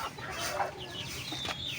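Fighting-breed chickens cluck softly at a moderate distance, with scattered bird calls over a steady background hum.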